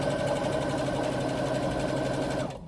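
A sewing machine runs steadily and close while stitching a swim bag, a continuous mechanical whir that holds for a couple of seconds before stopping abruptly.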